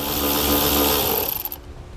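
A 10mm socket tool works the body nut at the ground point of a 2010 Pontiac Vibe's trailer wiring: a loud, steady mechanical whir for about a second and a half, then it cuts off abruptly.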